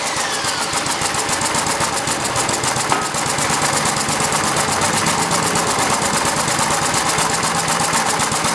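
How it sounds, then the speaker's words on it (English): A small homemade gas engine runs steadily with a rapid, even mechanical chatter, close and loud, driving a clutch through two universal joints and a drive shaft. "So the engine is running,"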